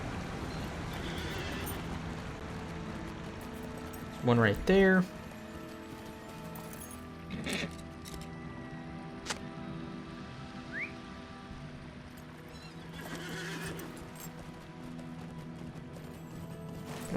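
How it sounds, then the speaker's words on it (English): Horse neighing and hooves clip-clopping in the video game LOTRO (Lord of the Rings Online), a sharp whinny standing out above steady game ambience and music, with someone talking briefly. "Let me get on my horse."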